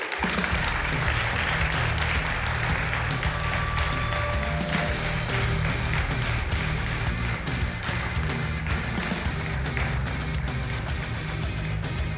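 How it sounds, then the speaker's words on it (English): An audience claps steadily for a speaker's introduction, a dense, sustained round of applause filling the room from start to finish with faint voices mixed in. "Please give a round of applause for Bryan"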